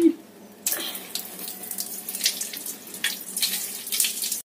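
Water runs from a tap into a toy water gun, a steady close splashing rush that continues without pause, then cuts off.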